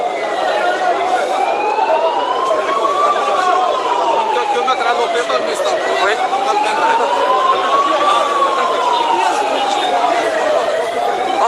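A wailing ambulance siren carrying a patient rises and falls steadily in long cycles, loud and continuous, with street noise of police vehicles in Algiers and a brief voice beneath it.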